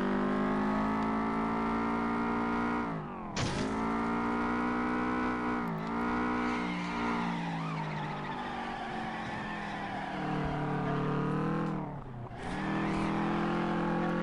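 A race car engine held at full throttle in the FlatOut racing game, a loud sustained drone that rises and falls in pitch through gear changes, with brief tire squeals and no break in the roar.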